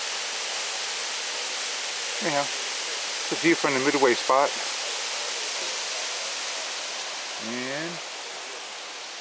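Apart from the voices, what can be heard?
waterfall in Blowing Rock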